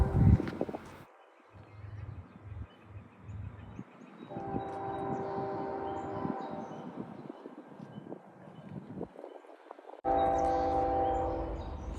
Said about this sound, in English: when the train blows the horn through Ravenshire